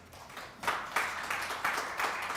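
Applause at a financial forum breaks out for the chairman of an internet newspaper association, with several swelling waves of clapping from an audience, moderately faint and with no voices.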